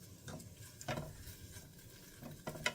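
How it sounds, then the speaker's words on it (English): Breakfast sausage and onions sizzle softly in a pan while a spatula occasionally scrapes and taps, quiet and close. "fry the sausage and the onions until it's brown"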